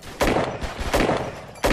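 Three loud, sharp gunshots ring out roughly evenly spaced in an Unturned World War II roleplay firefight, each a broadband crack with a short tail, with no voices over them.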